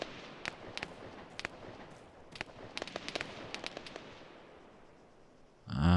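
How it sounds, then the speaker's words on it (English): Gunshots from several shooters in ArmA 3, scattered sharp cracks popping at irregular intervals some distance off, in small clusters over a soft background hiss, ending with a louder sudden noise. "I think that's 3 people shooting."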